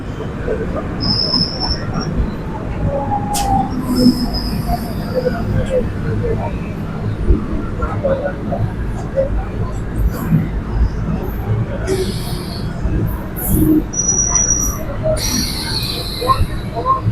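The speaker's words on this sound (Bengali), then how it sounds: "তোমরা যে ট্রেনটা দেখলে এখন মেমুটা গেল, সেটা কিন্তু হচ্ছে মানে মেন লাইন থেকে গেল" A MEMU electric passenger train running along the main line nearby, a continuous rolling rumble of wheels on rail with intermittent high-pitched wheel squeals and a few brief tonal whines, steady and loud throughout.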